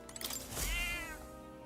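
A cat meowing in the video game Metaphor: ReFantazio, one clear, drawn-out meow rising and falling over soft game background sound.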